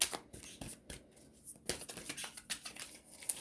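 Crisp riffling and flicking of cards, a steady run of papery snaps and bursts, close and fairly quiet with no talking.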